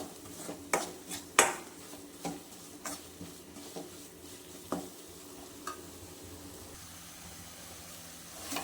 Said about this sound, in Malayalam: സവോളയും എല്ലാം മസാല എല്ലാം കൂടെ നല്ലപോലെ എണ്ണയിലിട്ടൊന്ന് വഴറ്റി